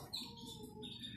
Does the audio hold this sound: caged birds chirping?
yes